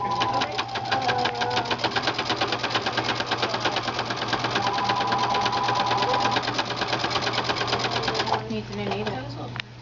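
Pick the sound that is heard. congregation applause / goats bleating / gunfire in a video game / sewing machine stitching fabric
sewing machine stitching fabric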